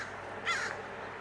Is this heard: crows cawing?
yes